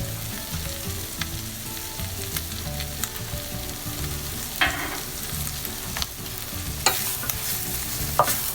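Chicken sisig sizzles steadily over high heat while a utensil stirs and scrapes the pan, with periodic sharp clacks and scrapes punctuating the continuous frying hiss.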